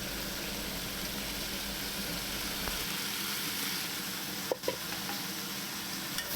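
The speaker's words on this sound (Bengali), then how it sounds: "দিয়ে এটা আর একটু কষে নেবো" Potato pieces sizzle steadily with chicken mince and cabbage in a pan, a low continuous frying hiss with a couple of brief utensil knocks near the end.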